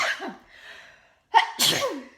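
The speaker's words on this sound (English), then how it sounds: "Excuse me, I'm going to sneeze." A single sharp sneeze bursts out after a brief breathy intake, close and loud against an otherwise quiet background.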